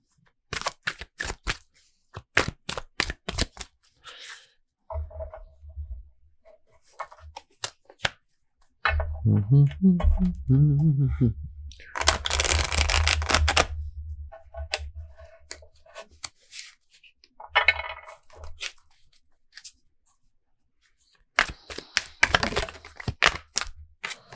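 Brisk riffling and slapping of a deck of tarot cards being shuffled, in repeated bursts with short pauses between, close and fairly loud.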